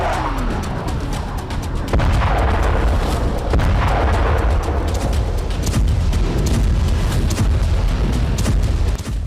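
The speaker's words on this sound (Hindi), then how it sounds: "रूसी ब्रिगेड के आसमानी प्रहार से यूक्रेनी धरती सुलग रही है।" Explosions and artillery fire from Russian strikes on Ukraine: loud, deep booms and sharp blasts come repeatedly over a constant heavy rumble, with several strong impacts spread across the span.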